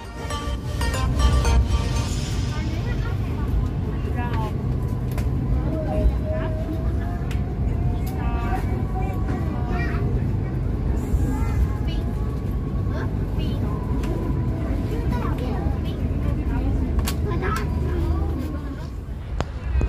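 Inside the Ambarawa Express economy train, a continuous low rumble and rattle of the carriage rolling over double track near Ngrombo station carries on throughout, under steady talking from a man onboard.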